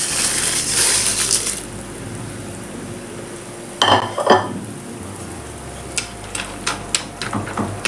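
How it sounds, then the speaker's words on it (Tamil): Two packets of dry Maggi noodles added to a pan of water on the stove, with crinkly rustling at first, then a few sharp clattering hits and knocks against the pan, close and loud. "இப்போ மேகி எடுத்து அதில் ஆட் பண்ணிக்கலாம்."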